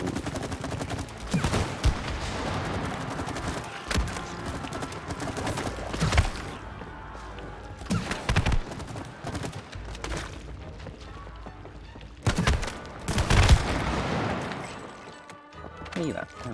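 Bursts of video game gunfire from It Takes Two come in short rapid volleys separated by gaps, loud and close, with a player talking over parts of it.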